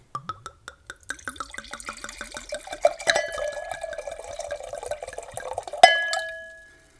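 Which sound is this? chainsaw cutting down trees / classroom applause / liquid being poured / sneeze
liquid being poured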